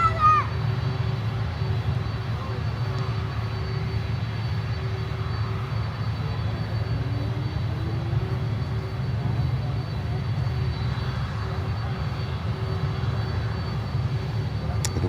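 A DHL Boeing 767 cargo jet at Miami airport sends a low, steady engine drone with a faint whining tone drifting across it, heard at a distance while muffled voices murmur in the background.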